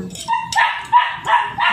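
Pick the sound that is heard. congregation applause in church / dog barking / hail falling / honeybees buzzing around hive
dog barking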